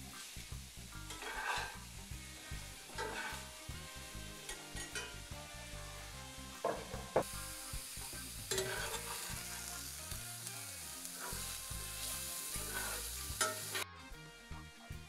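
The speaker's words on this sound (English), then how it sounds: "we brown the sausage over medium heat" Small pieces of local beef sausage browning over medium heat in a skillet, a continuous sizzle broken by repeated scraping stirs and clinks of the utensil against the pan, close and fairly quiet.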